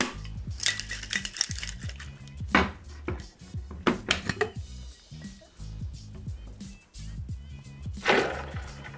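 Cocktail-making equipment being rinsed and handled at a bar, with close clinks, knocks and clattering of metal and glass in an uneven rhythm, broken by bursts of splashing water.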